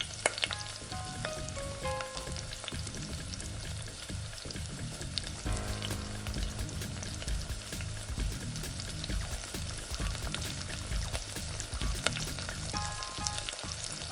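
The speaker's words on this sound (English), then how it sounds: "add the nuggets one by one on the wok and fry them in medium flame" Chicken nuggets frying in hot oil in a wok over a medium flame, a continuous close crackling sizzle with occasional pops and faint clinks, steady throughout at moderate volume with no voices.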